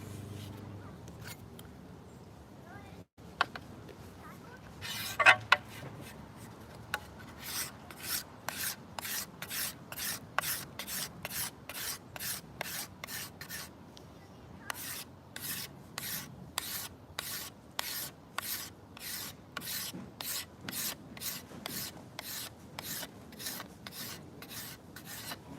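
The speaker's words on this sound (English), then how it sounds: "I'm gonna take material off here with the scraper because it is a little stiff there." A steel scraper rasps wood off the limb of a maple selfbow during tillering, a long run of steady, evenly spaced strokes close to the microphone, with a brief pause before the rhythm resumes.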